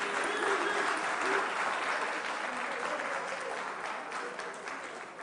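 Audience applause at a school quiz grand finale, steady dense clapping from a large crowd in a hall that holds strongly, then eases slightly toward the end.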